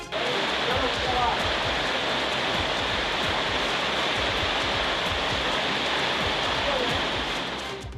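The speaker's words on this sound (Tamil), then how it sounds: "மதுரை மாநகரில் ஒரு மணி நேரத்திற்கு மேலாக கொட்டிய மழையால் சாலைகள் வெள்ளக்காடாகின" Heavy rain pours over flooded city streets in Madurai, a steady, dense roar of falling water and runoff that stays loud and continuous throughout, with no voices.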